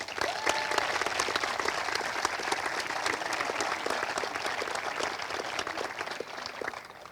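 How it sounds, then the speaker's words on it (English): An audience at a medical school white coat ceremony applauds with sustained, dense clapping from a sizable crowd, even and moderately loud throughout, with no speech over it. "a round of applause."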